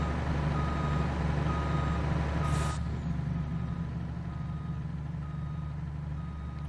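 Truck reversing beeps in Farming Simulator, a steady repeating electronic beep over a loud idling truck engine drone, with a brief hiss partway through.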